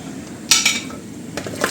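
Potatoes dropped into the bottom of a slow cooker dish for chicken and potatoes, two short clattering knocks a second apart, close and fairly loud in a quiet room.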